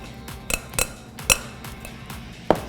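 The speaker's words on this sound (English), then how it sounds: "I'm going to transfer these to a bowl." Chicken cutlets being lifted out of their juices and moved into a bowl set off several sharp clinks and knocks of utensils against dishes, spaced irregularly, close and fairly crisp, with no talking.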